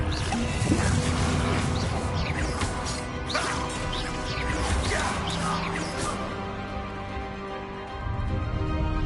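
A troll in Hogwarts Legacy roars and bellows amid smashing, whooshing combat noise, with heavy thuds and swipes continuing loudly for several seconds.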